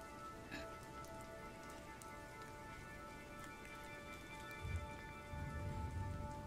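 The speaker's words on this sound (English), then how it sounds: "They should be hearing rain and" Rain falling steadily as a soft, continuous patter with a light synth tone faintly sustained underneath, quiet and even throughout.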